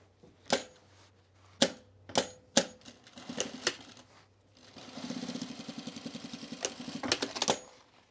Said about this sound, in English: Stitching on the center back seam.